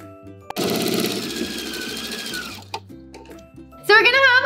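A sewing machine runs in one steady burst of about two seconds, stitching bias binding onto the hood of a clear plastic raincoat, loud and close, with someone talking before and after.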